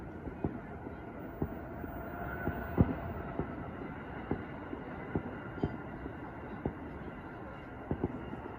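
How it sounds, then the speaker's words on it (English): An Amtrak train passes nearby, a steady low rumble carrying regular rhythmic clacks of wheels over rail joints, continuous and fairly loud throughout. "I hear it's train time, as I hear an Amtrak coming through"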